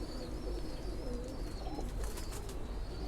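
Caged pigeons coo softly and repeatedly, a faint, continuous murmur of low calls from several birds.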